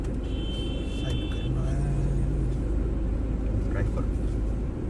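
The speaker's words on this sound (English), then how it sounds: "let's have a drive." A BMW 320d on the move, heard from inside as a steady low road and engine rumble with tyre noise, while a voice speaks over it.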